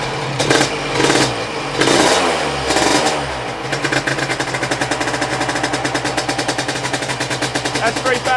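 A Vespa scooter engine with SIP Vape ignition, running at a steady 3,500 rpm during a strobe timing check after a stator adjustment: rapid even putter close up, preceded by a few louder revving bursts.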